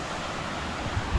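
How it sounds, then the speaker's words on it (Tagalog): Linaw Baboy Falls, a wide waterfall pouring into deep water in a forest, makes a steady dense roar that fills the clip at an even level with no voices. "So nandito tayo ngayon sa tinatawag na Linaw Baboy Falls."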